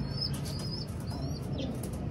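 A young pigeon flaps its wings in a quick, steady flutter, close and moderately loud, with faint chirps in the background and no talking.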